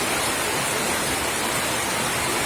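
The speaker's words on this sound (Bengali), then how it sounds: "ভারী বৃষ্টি পড়তেছে" Heavy rain pouring down during flooding, a dense, even roar of falling water that fills the whole moment without any gaps, loud and close with no voices.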